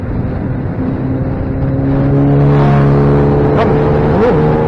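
A motorbike passes on a highway during a Karnataka ride from Bangalore toward Gaganachukki falls. Its loud, close engine drone holds steady, then rises, with the pitch bending upward near the end.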